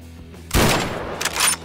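Gunfire in the video game Garry's Mod, in a Five Nights at Freddy's co-op mode: after a quiet start comes a loud burst of rapid shots, then a few more sharp bursts close together.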